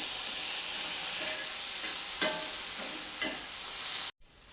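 Green chillies sautéing with peanut powder and fresh curd for dahi mirchi, a steady bright sizzle with a few soft stirring scrapes that cuts off abruptly near the end.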